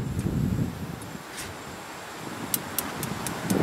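Steady wind rushes and buffets the microphone, with a few faint high clicks toward the end.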